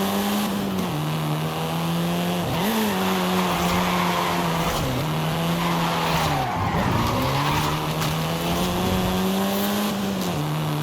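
A Volkswagen Golf R races in Forza Horizon 5, its engine holding a loud, steady drone with brief dips at gear shifts while tires squeal and skid continuously underneath.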